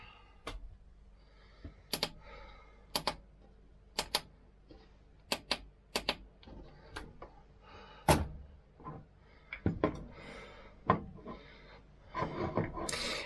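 A knife being sharpened edge trailing on a dual-grit Spyderco Gauntlet stone: a run of close scraping and sharp tapping strokes, irregular and sometimes in quick pairs, ending with a denser rasping stretch.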